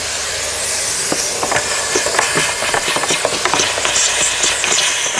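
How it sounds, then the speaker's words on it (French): Vacuum cleaner running inside a Renault Laguna 3, a loud steady hissing roar with repeated bumps and clatters as the nozzle works over the interior. "Maintenant on va passer un coup d'aspirateur à l'intérieur"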